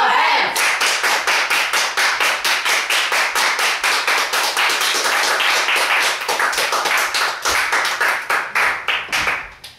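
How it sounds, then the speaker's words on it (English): A group clapping hands in a fast, steady rhythm, each sharp clap distinct and close, continuing for about ten seconds before trailing off into a few scattered final claps. "Everybody clap your hands!"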